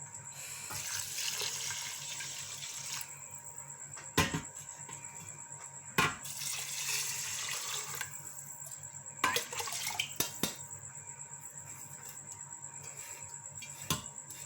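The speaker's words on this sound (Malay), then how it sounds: "Jadi kita masukkan air 1 pot." Water pours into a pot of rice for mutton biryani in a pressure cooker, a steady close splashing stream that runs on with several brief louder knocks and clatters along the way.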